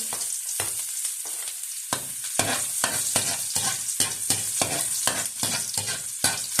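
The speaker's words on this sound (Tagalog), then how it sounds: "mainit na po yung ating kawali. Lagay na po natin mga kaguro. Painaan po muna natin. Lagay po muna natin ang bawang mga kaguro." Garlic frying in a little oil in a hot wok-style pan, with a run of rhythmic scraping and stirring strokes over a bright, steady sizzle and no voices.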